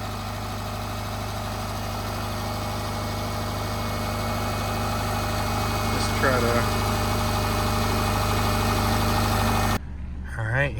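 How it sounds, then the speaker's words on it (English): Subaru Forester idling after an engine swap: a steady, even idle with a constant low hum and a mechanical buzz, close and unbroken, with brief voices and a squeak in the middle and a short talking phrase at the end. "Clearly the engine's running"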